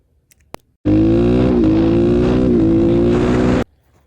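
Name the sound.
engine revs dropping when kill switch pushed during shift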